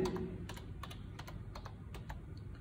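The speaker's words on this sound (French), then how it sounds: "je vais écrire avec le clavier de l'ordinateur eau déminéralisée" Typing on a computer keyboard in a lab setting, a quick run of faint separate key clicks over a steady background hum, with no talking.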